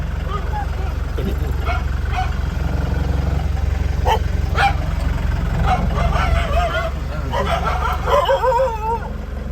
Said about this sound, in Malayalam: അവരുടെ പട്ടിയാട്ടോ ഇത്